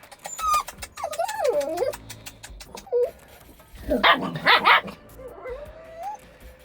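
A young puppy found in a pit yelps, whines and whimpers in short high-pitched bursts, with a couple of louder squeals midway, close and without speech.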